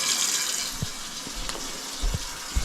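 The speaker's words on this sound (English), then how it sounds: "You're going to fill the bottom up with some water." Water splashes and trickles into the bottom of a pressure cooker, with a few short pours and bumps close by, no talking.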